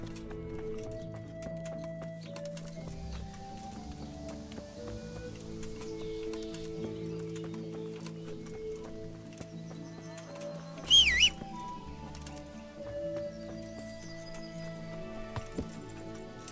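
Horse hooves clip-clop in the medieval game Kingdom Come: Deliverance, soft rhythmic steps under a sustained musical score, with a brief louder burst of sound midway.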